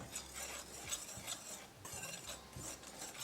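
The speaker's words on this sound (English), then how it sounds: "add all-purpose flour, which is maida, baking powder, mix it" All-purpose flour and baking powder are stirred in a mixing bowl, giving soft repeated scraping and rubbing strokes at a steady rhythm, close and fairly quiet with no talking.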